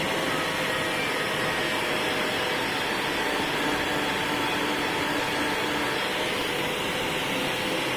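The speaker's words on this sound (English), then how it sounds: "So I'm just polishing the surface again to get the smooth surface." A high-speed polishing tool works the surface of an old Royal Enfield engine clutch case, a steady, dense, loud whirring roar that holds unbroken throughout with no talk.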